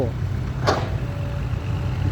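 A Fuso truck drives past at a dusty earthworks site, its low diesel engine rumble steady throughout, with a brief hiss of air or dust partway through and talk around it.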